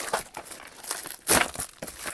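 Plastic packaging crinkles as a parcel of goods ordered from AliExpress is opened, a faint run of rustles with one louder crackling burst partway through, no voices.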